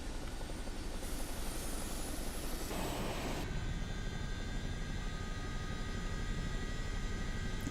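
Helicopter engine in Microsoft Flight Simulator 2024 winding down during shutdown, a steady broadband turbine roar with a whining tone that shifts partway through, continuous and fairly loud, no voices.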